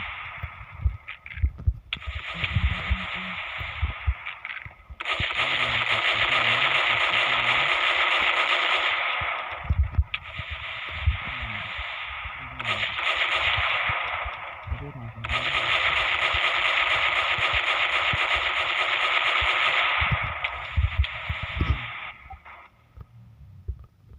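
Sustained bursts of automatic gunfire in a war-style Minecraft server game, RcCraftZ, rattling in long loud stretches separated by brief pauses, with a voice occasionally speaking underneath.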